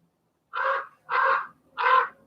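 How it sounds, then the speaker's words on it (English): A crow outdoors caws three times in an even rhythm, each call short and clear against a silent background, with no talking. "that's not the dog, that's the bird"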